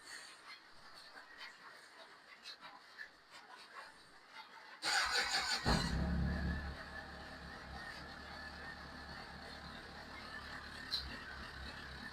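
A Honda CBR1000RR motorcycle engine starts up about five seconds in and settles into a steady, even idle close by, following quiet ambient noise.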